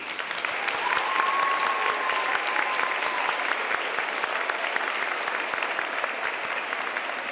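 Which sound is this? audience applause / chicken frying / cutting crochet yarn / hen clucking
audience applause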